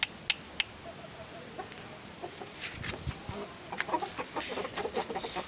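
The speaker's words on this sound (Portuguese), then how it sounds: "Aqui é mais um galo" A rooster clucks in short bursts, starting sparse and growing busier, close by against a quiet outdoor background.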